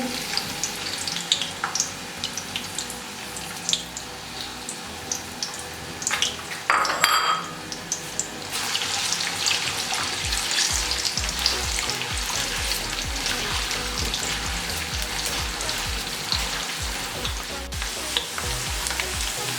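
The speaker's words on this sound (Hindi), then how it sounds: "अब इसमें प्याज डालेंगे और इसको गोल्डन होने तक फ्राई करेंगे।" Onions fry in half a cup of oil in a pan for mutton nihari, a continuous sizzle broken by scraping and clinking of a utensil against the pan, with a louder, fuller frying surge partway through.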